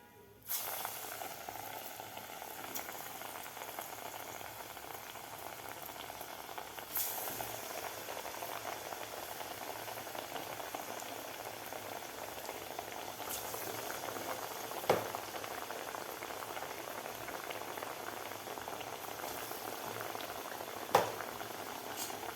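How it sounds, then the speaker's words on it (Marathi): Soaked chana dal frying in hot oil, a steady dense bubbling sizzle throughout, with a couple of sharp pops and clinks near the end and no talking. "आता सुद्धा आपल्याला अशा प्रकारेच तळून घ्यायचं आहे"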